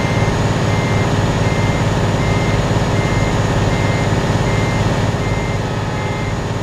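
A heavily loaded Tata truck in a hill-driving video game sounds its reversing alarm, a loud, rapid, evenly repeating beep over a steady engine drone, with no talking.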